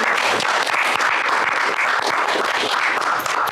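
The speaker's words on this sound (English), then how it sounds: "So let's give them a round of applause." Steady, dense applause from an outdoor crowd at a splash pad groundbreaking, continuous clapping at full volume for the whole stretch with no pauses.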